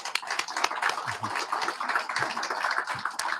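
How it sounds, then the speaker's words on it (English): A room of guests at a council member's swearing-in ceremony claps for the media team and staff: a steady, moderately loud patter of many hands that holds evenly throughout, with no talk over it. "So let's give them a round of applause"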